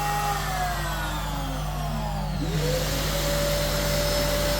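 A Hoover vacuum serving as a dust extractor on a newly delivered Trend Yeti CNC router runs loudly and steadily. Its whine shifts in pitch partway through as the motor changes speed.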